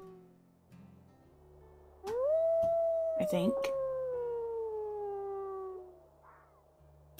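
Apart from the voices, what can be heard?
wolf howling, from the video game WolfQuest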